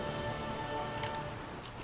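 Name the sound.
rain falling in the video game The Witcher 3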